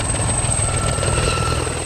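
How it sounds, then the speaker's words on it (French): A Gazelle military helicopter circles overhead above a desert airstrip in the Sahel, its steady rotor and engine drone constant and fairly loud, with no talk. "Un hélicoptère Gazelle est envoyé en repérage. Il fait des tours autour de nous"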